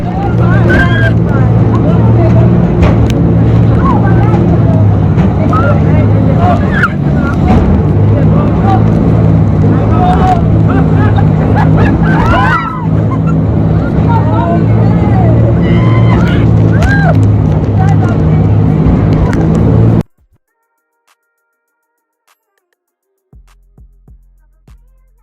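A fast speedboat on a tour powers across the water, its engine a loud, steady roar with wind and spray noise for about twenty seconds before cutting out abruptly. Voices chatter underneath the din throughout.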